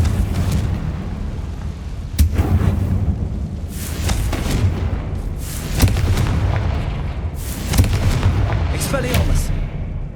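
Repeated booming blasts from the Confringo spell in Hogwarts Legacy, several heavy explosions at irregular intervals, loud and close over a continuous rumbling battle background.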